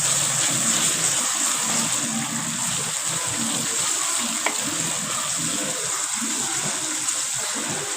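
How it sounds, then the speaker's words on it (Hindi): A steady, close sizzle of garlic-ginger paste frying in hot oil, hissing continuously without pause and no talking. "हमारा तड़का जो है वो अच्छी तरह भुन रहा है।"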